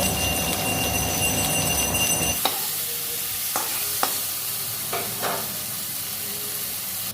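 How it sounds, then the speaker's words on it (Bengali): Pointed gourd frying in mustard oil with salt and turmeric: steady dense sizzle, loud for the first couple of seconds, then quieter frying with a few sharp stirring scrapes. "পটলগুলো ভেজে নেব লবণ দেব"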